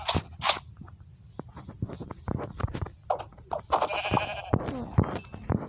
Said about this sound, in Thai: เฮ้ยแกะ อยู่หน้าบ้านอ่ะ